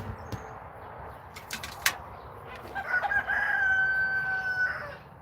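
A rooster on a farm gives a loud, drawn-out crow after a few scattered clucks and rustles, the call ringing clearly over quiet outdoor background.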